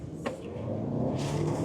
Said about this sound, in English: Oh, yeah. Nice revvy engine.